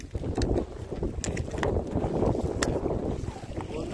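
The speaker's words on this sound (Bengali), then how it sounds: "হাওয়া কিন্তু অনেক জোরে হচ্ছে" Strong storm wind buffets the microphone on a fishing boat out on the water, a rough continuous roar with irregular gusts and thumps.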